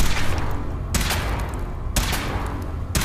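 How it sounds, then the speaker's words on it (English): Weapon fire from the Fallout 4 video game, with three loud, broadband blasts about a second apart over a dense, roaring bed of continuous noise. "Firing."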